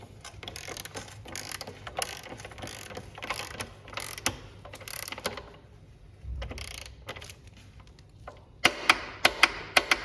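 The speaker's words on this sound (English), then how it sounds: "Torque wrench has clicked." Torque wrench tightening a motorcycle's rear chain axle: a run of quiet, close ratcheting clicks, ending in a few sharper, louder clicks as it reaches torque.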